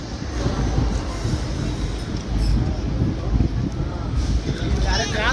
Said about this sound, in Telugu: స్టేషన్ కూడా వచ్చేసి WPR 1వ నెంబర్ ప్లాట్ఫామ్ మీద వచ్చిందండి మన ట్రైన్